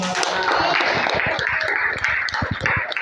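Classroom students clapping their hands together in a burst of applause during a coding and artificial intelligence lesson, dense rapid claps filling the room at steady loudness.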